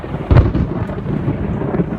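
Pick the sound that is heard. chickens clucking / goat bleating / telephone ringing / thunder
thunder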